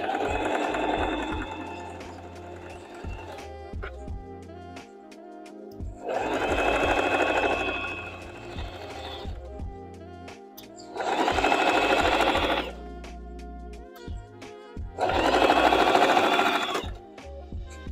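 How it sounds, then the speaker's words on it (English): A sewing machine running a straight stitch on a cushion, in four separate bursts of rapid mechanical clatter with quiet pauses between, close and clear with no talk. "I'm using a straight stitch. So you remove the pins as you go"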